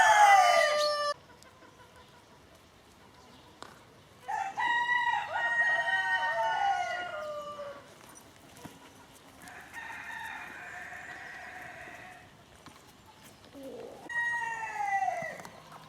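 Several Bresse hens cluck and call in separate bursts, with a harmonic crow-like cry at the start and quieter pauses in between.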